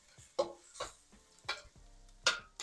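Spatula scraping and stirring scrambled egg in a frying pan for cauliflower fried rice, five or six short, distinct strokes at an even rhythm, close and fairly quiet with little sizzle between them.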